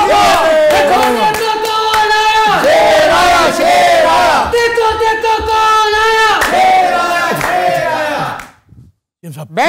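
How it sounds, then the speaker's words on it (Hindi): A studio audience greets the Chief Minister of Punjab's entrance on a Pakistani TV talk show with loud, rhythmic chanting and cheering, mixed with clapping. The sound comes in repeated surges and then cuts to near silence at the end. "आपकी तालियों की गूंज में तशरीफ लाते हैं चीफ मिनिस्टर पंजाब हमजा शबाज"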